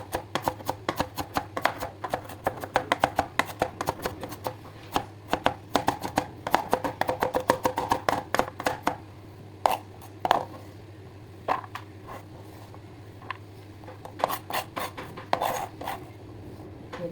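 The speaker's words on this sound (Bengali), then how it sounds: "আমি সুন্দর করে কাটিং করে নিতেছি সালাদের গুলারে" Cucumber sliced for salad on a cutting board, a dense run of quick, crisp knife taps that thins out into scattered separate chops, close by over a steady low hum.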